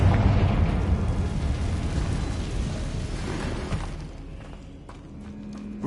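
The Confringo fire-blast spell in Hogwarts Legacy bursts with a loud rumbling explosion that rolls on and slowly fades into lighter crackling debris, close and without talk.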